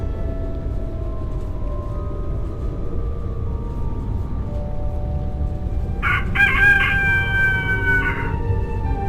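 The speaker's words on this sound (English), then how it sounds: "The sun has risen and the rooster crows." A rooster crows loudly in a video game (A Vampyre Story) over a steady low ambient hum, its call rising and breaking into a drawn-out cock-a-doodle-doo near the end.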